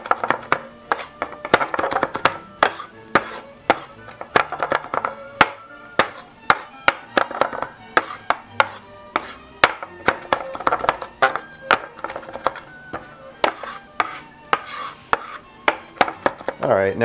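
A knife chops shallots on a cutting board for a zucchini ribbons dish with mushrooms, giving a steady run of quick, crisp, close chops that continues throughout.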